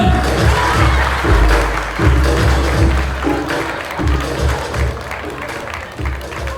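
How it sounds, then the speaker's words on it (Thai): Audience applause and cheering at a comedy open mic night in a beer bar, a dense crowd clapping with scattered shouts, loud and continuous throughout. "ขอเสียงปรบมือต้อนรับนะครับ"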